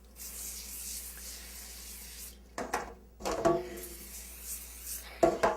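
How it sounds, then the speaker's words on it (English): Cooking grease is sprayed onto parchment paper while preparing a German chocolate cake: a steady, soft hiss runs for about two seconds, followed by brief rustling and clattering handling noises, with no talking. "Then we're going to spray the parchment paper."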